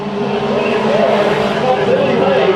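Mini stock cars race on the Bakersfield Speedway oval, engines roaring loudly and steadily with a hint of tire squeal, while an announcer's voice calls the action over the track noise.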